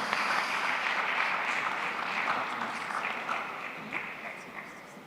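A conference audience applauds a panelist, a sustained, dense clapping wash that slowly fades toward the end, with faint voices underneath.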